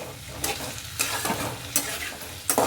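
Capsicum vangibath mixture with tamarind juice sizzling in a pan as it is stirred, with four sharp spoon-scrape bursts spaced evenly over a constant close sizzle.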